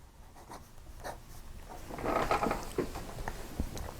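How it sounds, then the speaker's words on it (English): A fountain pen nib scratches across paper in everyday handwriting, a steady run of soft strokes that grows louder and denser toward the middle and then settles back, close up with no voices. "this one is something that I enjoy every time the nib touches the paper"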